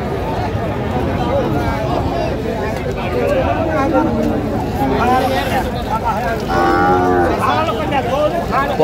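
Cows mooing at a cattle market, several loud nearby lows rising over a dense background of crowd chatter and bargaining voices.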